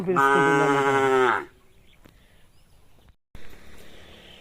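A cow gives one loud, drawn-out moo close by that lasts over a second, then it goes quiet with faint background noise and a brief rustle.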